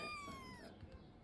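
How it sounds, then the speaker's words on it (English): Four-week-old rescue kittens give a high, thin mew that slides downward, followed by soft faint rustling nearby. "At only 4 weeks old, these kittens are on the move."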